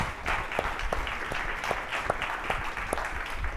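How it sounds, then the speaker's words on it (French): An audience at a talent club event in La Réunion applauds for a few seconds, a steady wash of clapping with distinct individual claps standing out and no talk over it. "On va applaudir, beaucoup de travail de fait."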